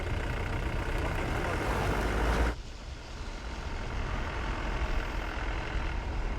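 A vehicle engine idles with a heavy, broad rumble that is loud for the first couple of seconds, then drops abruptly to a quieter, steady low hum.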